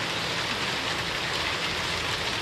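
Steady heavy rain pours down outdoors in an elephant's enclosure, a dense, even hiss of drops on surfaces continuing without a break and with no voices.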